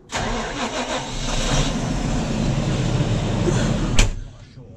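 A Fendt tractor engine cranks and fires up, then settles into a steady mid-pitched diesel run with a low rumble, close by, before a sharp knock and the engine sound falling away.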